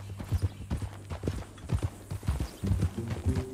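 Horse hooves clip-clop at a walk in Red Dead Redemption 2, a steady close rhythm of hollow knocks running throughout beneath a low background hum.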